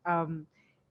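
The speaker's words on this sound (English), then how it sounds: "my cat also has a lot of interesting things to say" A house cat gives a single short meow, a clear tonal cry with strong harmonics fading after about half a second, followed by a faint softer trailing sound; nearby and fairly loud, with no talking.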